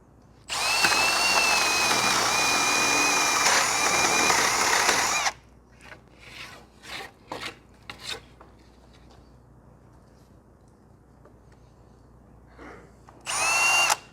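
A cordless drill whirs loudly at high speed for several seconds while driving bolts into steel, then stops; a few short clicks and bursts follow before the motor kicks in again briefly.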